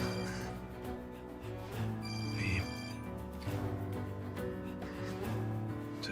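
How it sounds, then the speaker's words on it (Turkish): A telephone rings somewhere indoors, its faint electronic ringtone tones sitting under steady background music throughout. "Telefon."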